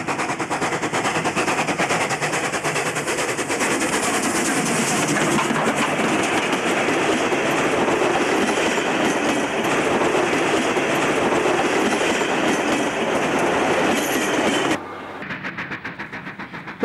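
A steam train, the Mudgee to Lithgow passenger at Capertee in New South Wales, pounds past with loud rapid exhaust beats and clattering wheels that hold steady before dropping off sharply near the end.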